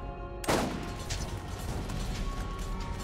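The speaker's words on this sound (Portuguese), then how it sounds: "deixa eu dar um tiro de sniper nele daqui." A single sharp sniper rifle shot cracks out in the video game Borderlands, a loud sudden blast followed by a dense rumbling tail and game background noise.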